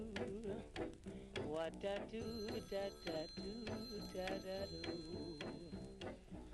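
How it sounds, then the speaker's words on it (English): An old telephone rings repeatedly in the video game Disco Elysium, a steady rhythmic bell trill over game music, with voices talking faintly underneath. "Harry, get the phone, it's been ringing since one, man"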